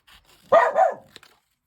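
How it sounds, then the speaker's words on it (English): Dogs barking indoors during a home journaling session: a faint yip, then a loud close double bark, followed by a couple of quick sharp yelps, with no talking. "Oops, excuse the dogs."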